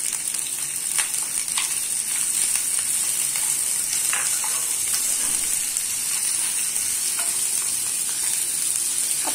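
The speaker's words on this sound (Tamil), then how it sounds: "எண்ணெய் சூடாயிடுச்சு. நம்ம சின்ன வெங்காயத்தை போட்டுக்கலாம்." Small onions (shallots) fry in hot oil for a Tamil mutton kuzhambu, giving a steady, close sizzle and hiss that runs unbroken throughout with no voices.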